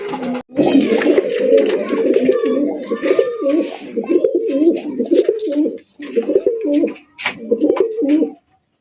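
Gola pigeons coo at a market, with several birds giving close, repeated throaty cooing phrases that run almost continuously, broken by a few short pauses and faint background noise.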